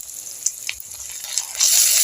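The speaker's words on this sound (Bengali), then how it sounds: "আদা রসুন বাটাটাও আমি ভালো মতো ভেজে নেব" Ginger garlic paste fries in a pan with a soft, steady sizzle and a few small pops and scrapes, the hiss swelling louder near the end, with no talk.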